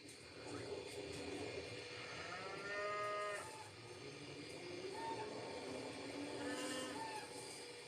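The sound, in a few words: cow mooing in Jurassic Park film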